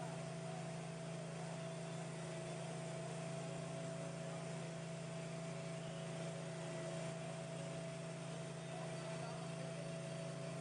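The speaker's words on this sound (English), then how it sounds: "A worker has a concrete pump hose." A concrete pump runs at a construction site at Disneyland's Star Wars land while a worker sprays concrete onto steel mesh against a wall, a steady, even engine drone with a constant tonal hum, moderately distant.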